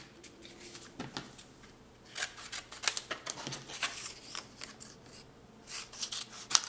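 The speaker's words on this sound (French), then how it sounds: "Alors ici, j'ai un excédent que je vais couper." Scissors trimming excess paper for a scrapbook album, close, crisp snipping and rasping cuts in irregular bursts, quiet between strokes, with no talking.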